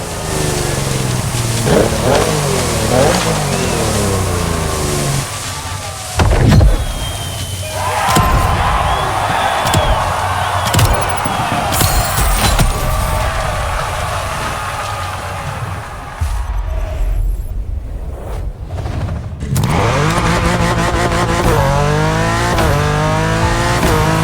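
A modded Liberty Walk BMW in The Crew Motorfest revs hard and accelerates through repeated gear-shift sweeps, with tire squeal and one loud burst midway, all up close and loud, no talking.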